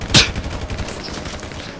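A pistol shot in GTA 5 Online gives one sharp, loud crack early on. Fainter game noise and rumble follow.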